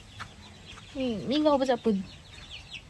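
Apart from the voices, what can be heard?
chickens clucking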